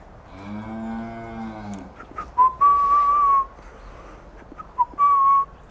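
Two heifers on a farm moo, first a long low drawn-out call, then a pair of higher sustained moos, close and loud with quiet barn noise between.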